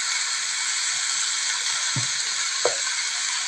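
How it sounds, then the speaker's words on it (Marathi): Soaked moong dal hits a hot pan for methi bhaji, giving a steady, even sizzle with a couple of soft thuds midway and no voices. "त्याच्यामध्ये मी भिजवलेली मूग डाळ घालत आहे."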